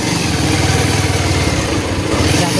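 A motorcycle engine labours steadily while climbing an uphill village road, a close, loud, rapid rhythmic chug filling the short stretch.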